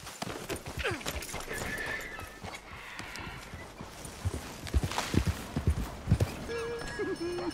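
Horse hooves clip-clopping at a walk in the Red Dead Redemption 2 video game, a steady irregular patter of thuds growing louder toward the end, with a brief whinny-like tone and a voice talking over it.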